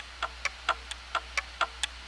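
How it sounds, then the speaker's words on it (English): Steady ticking of a grandfather clock used as a texture layer in a music production, about nine soft, evenly spaced tocks alternating in pitch, heard close and alone without talk. "we have this grandfather clock too that I love using clock sounds"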